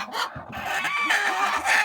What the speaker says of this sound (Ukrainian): Ось ці курочки, бачите, вже такі великі, ну, курчата